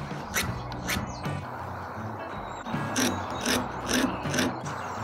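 Garden pruners sharpened by hand with a file or stone: a series of short, scraping strokes in uneven rhythm, some sharp and bright, over a low background hum, with no speech.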